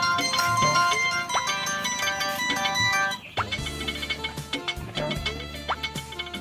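A mobile phone rings with a melodic electronic ringtone, bright repeating tones playing close by and fairly loud, with no speech over it.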